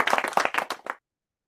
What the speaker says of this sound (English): Thank you for the clap.